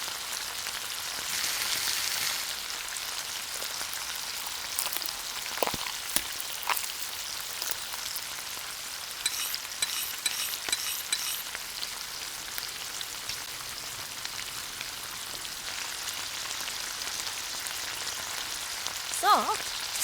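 Tiny beef and onion frying in a miniature pan, a soft continuous crackling sizzle like light rain, faint and steady over about twenty seconds with occasional small pops.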